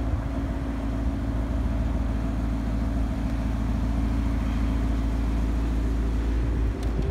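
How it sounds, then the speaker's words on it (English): 2014 Maserati GranTurismo Sport V8 exhaust giving a steady, low idle rumble, close and continuous with no talk over it. "focus on the exhaust a little bit just so you can get some of that iconic rumble from the V8 engine"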